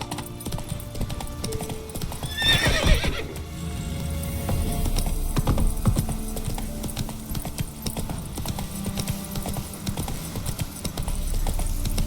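Roach, the horse in The Witcher 3, clip-clops along in a steady gallop with hoofbeats throughout, while a sharp neigh rises early on amid the movement of the game.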